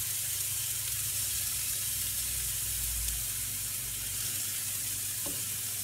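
Plant-based burger patties frying in a pan, a steady close hiss of sizzling fat with a low background hum, continuous and fairly quiet.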